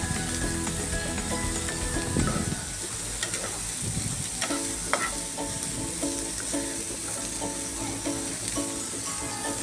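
Pieces of radish cook in a hot pan and are stirred, making a dense, continuous sizzle with scattered scrapes and clatters, close and fairly loud, without anyone talking.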